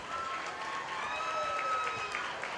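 A crowd applauds the exhibitors at a 4-H and FFA market hog show at a county fair, with steady, moderately distant clapping throughout.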